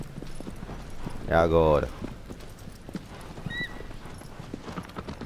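A horse galloping in Shadow of the Colossus, steady clip-clop hoofbeats with a loud neigh midway, while someone talks excitedly over the ride.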